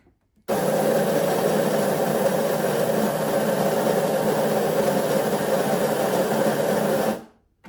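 A coffee machine makes a latte with almond milk, a steady loud mechanical whir and hum that starts abruptly, runs for several seconds without talk, then stops.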